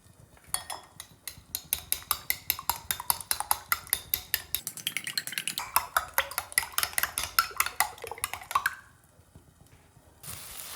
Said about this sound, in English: I'm going to break open 4 eggs and combine both the egg white and egg yolk well